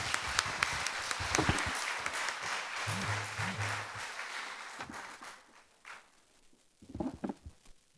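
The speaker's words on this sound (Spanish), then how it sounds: "le damos un fuerte aplauso" Applause from an audience at an archdiocesan congress evening talk, a steady patter of clapping that fades after about five seconds, with brief voices and noises near the end.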